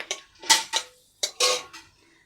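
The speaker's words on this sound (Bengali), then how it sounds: "এটা একটু নেড়ে চেড়ে নেব।" Whole cinnamon sticks, cardamom pods and cloves are stirred in oil in a cooking pan, giving five or six sharp utensil clinks and scrapes in quick, uneven strokes, close and alone.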